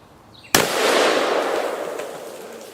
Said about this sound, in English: You see me about to shoot that with one hand?